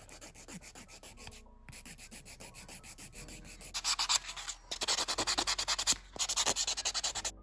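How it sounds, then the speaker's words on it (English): Acrylic nails being filed and buffed, a dry rhythmic rubbing and scraping with short repeated strokes that grow louder and brisker partway through, close up with no talking. "now let's go do some filing and some buffing"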